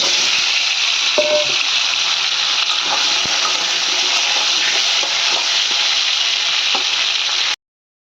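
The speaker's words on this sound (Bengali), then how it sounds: "এবার এই সবগুলোকে ভালো করে আমি লাল করে ভেজে নেব।" Cubed potatoes and pointed gourd, rubbed with turmeric and salt, fry in mustard oil with a loud, steady sizzle that fills the whole stretch, broken by a few soft stirring clicks before cutting out abruptly near the end.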